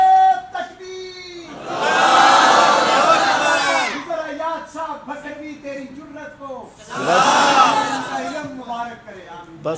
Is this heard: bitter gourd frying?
no